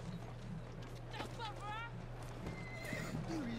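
A horse in Assassin's Creed Syndicate whinnies in a quick rising-and-falling burst amid faint hoofbeats and low background hum, with a voice speaking briefly nearby.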